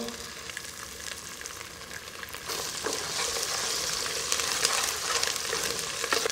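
Curry leaves drop into hot oil with ginger-garlic paste for a mutton masala, bursting into a loud, crackling sizzle that swells and keeps spitting close by.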